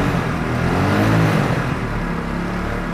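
A motorcycle engine revs up under acceleration, a steady loud mid-range drone that swells and holds, close by with no talk.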